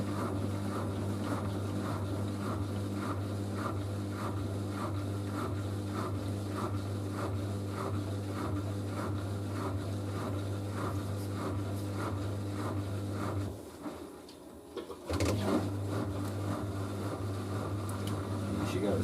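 A Zanussi Z716WT83BI integrated washer dryer on a cottons 40°C cycle spins its drum up toward 800 rpm, a steady loud rumbling hum with a regular rhythmic thump that briefly dips near the end before resuming.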